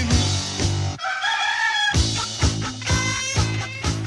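Novelty song: a rooster crow and chicken clucking, likely performed by voice, set over a loud, rhythmic rock backing with pounding drums and a steady beat.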